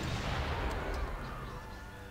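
Booming artillery fire from the strategy game Civilization V, a dense rumbling volley that rolls and fades over about two seconds.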